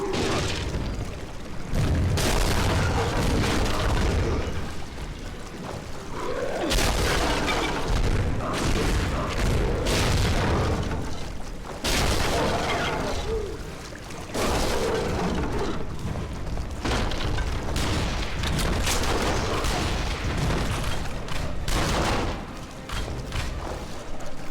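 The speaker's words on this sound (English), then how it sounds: "Abe goes around destroying the pillars." Loud, heavy booms and crumbling bursts come as pillars are destroyed in the video game Hellboy: The Science of Evil, forming a dense, sustained din of impacts with short pauses between waves.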